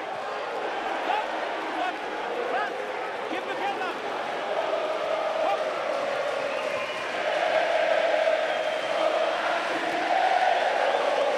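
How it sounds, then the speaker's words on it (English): A large football-style crowd roars steadily at an Olympic boxing final in Rio, cheering on Brazilian fighter Robson Conceição; the dense, sustained crowd noise swells louder toward the end, with commentary voices faintly underneath. "This football crowd atmosphere still driving on the man in red, Robson Conceição, Brazil."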